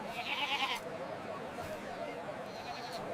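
Goats bleat at a crowded livestock market, a wavering bleat up close at the start and another fainter one later, over steady crowd murmur and voices.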